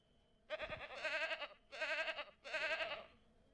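Goats in the Ranch Simulator video game bleat three times in quick succession, each call a wavering, nasal cry, fairly quiet and with nothing else around them.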